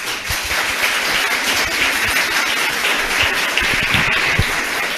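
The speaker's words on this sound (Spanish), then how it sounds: "pido un gran aplauso para él" A large audience applauds a professor at an international psychology congress, loud and sustained clapping filling the room with a thick, even wash of hand claps.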